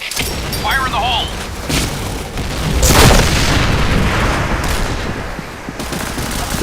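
A grenade explodes in the first-person shooter Point Blank: a heavy, booming blast swells around the middle amid a dense wash of gunfire, with excited voices chattering over the battle.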